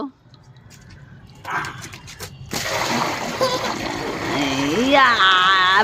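A small child plays and splashes in water on a rainy day, with wet splashes building into a steady, close spattering while young voices and a bark-like cry rise over it.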